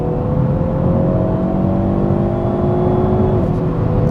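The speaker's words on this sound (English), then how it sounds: "It really shifts aggressively when you have it in N mode." A 2021 Hyundai Veloster N with an 8-speed dual-clutch gearbox, driven at full throttle in N mode at night, sends a steady, loud engine drone through the cabin, its pitch climbing until a quick gear change near the end.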